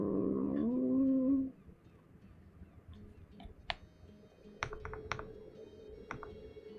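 Keys clicking on a computer keyboard while typing in the indie game Cateau: after a brief musical tone fades, sparse, irregular keystrokes, close and fairly quiet, with a faint steady hum underneath.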